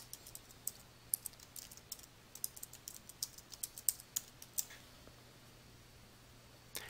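Keystrokes on a computer keyboard while text is entered into header and footer fields in Adobe Acrobat XI, a quiet, fairly steady run of light clicks with small pauses, alone with no talk.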